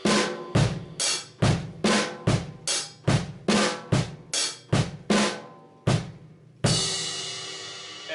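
Slow drum beat of a song on a kit, a dozen evenly spaced snare and bass drum hits ending with a ringing crash cymbal, close and loud with no talking.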